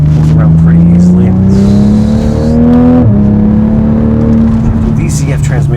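A new Toyota Supra with a ZF automatic gearbox drones loudly and steadily from inside the cabin as it pulls, its engine pitch rising and easing, with one brief pop near the middle and people talking over it.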